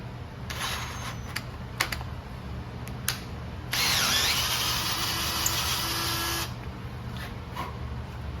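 A hand drill with a 25/64 bit bores a hole for a helicoil on a Zetor 5211 tractor, running in a steady whir for about three seconds amid faint clicks and workshop background.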